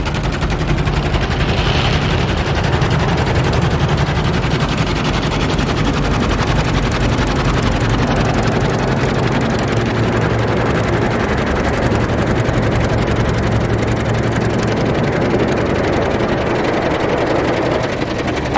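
Dense, steady roar of water spraying and brushes churning inside a D&S IQ Soft Touch car wash at Rocky Mountain Car Wash in Belgrade, Montana, loud and close throughout with no let-up and no talking.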